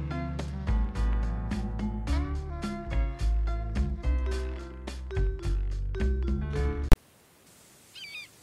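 Gramophone record playing music in the video game Secret Files: Tunguska, a steady melodic tune with plucked and sustained notes, the disc turning slowly under weight, running loud and continuous for about seven seconds before cutting to near silence.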